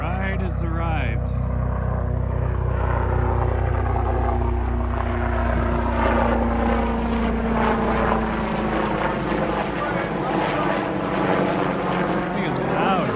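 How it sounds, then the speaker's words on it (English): A hospital helicopter flies overhead with a loud, steady rotor drone that dominates throughout, beneath people talking. "Old hospital helicopter."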